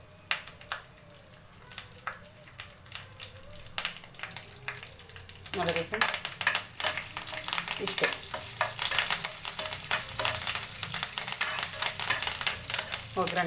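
Mustard seeds and cumin spluttering in hot oil for a tempering. A soft sizzle turns into dense, busy crackling and popping close up, while a voice talks briefly.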